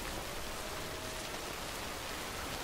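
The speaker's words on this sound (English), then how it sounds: "The rain is just following me." Rain in the video game Death Stranding, a dense, even downpour hiss filling the whole clip at a constant low level, with no voices over it.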